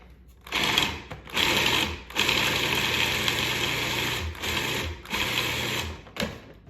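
A food processor whirs in a series of loud bursts with short pauses between them, pulsing macadamia nuts and grated Parmesan cheese for pesto.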